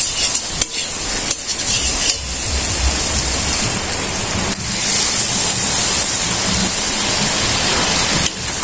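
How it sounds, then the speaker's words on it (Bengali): Rain falling in a village during outdoor cooking, a dense steady roar of drops on surfaces with a few sharp louder spatters, close and unbroken throughout, no talk. "তো আবার এই যে বৃষ্টি থামছে।"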